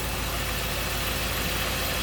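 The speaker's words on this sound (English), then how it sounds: "Idle speed reduced to 700." A BMW 8 Series engine idles smoothly and steadily nearby at 700 rpm, a constant low mechanical hum with no revving or speech.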